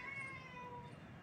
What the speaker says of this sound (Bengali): হ্যাঁ ম্যা করে কথা বলতেছে পাখির সাথে।